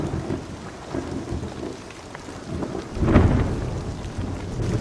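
A thunderstorm pours steady heavy rain, and a loud, close thunder crack and rumble breaks in near the middle.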